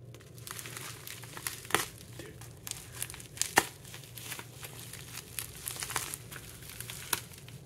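A knife cutting through heavy tape on a package from Korea, with continuous close crinkling and tearing plastic and several sharp rips and snaps.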